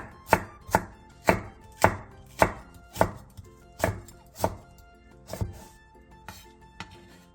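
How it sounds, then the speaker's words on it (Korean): A knife slices onion, green onion and chili peppers on a cutting board for a Korean stew, giving about a dozen crisp, evenly spaced chops, close and clear, with no talking. "양파 1개를 채 썰고 대파 3분의 1개, 청양고추 1개, 홍고추 1개를 어슷썰기 해주세요."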